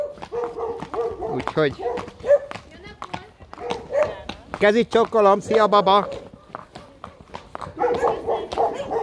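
Dogs bark intermittently in the background while people talk over them throughout.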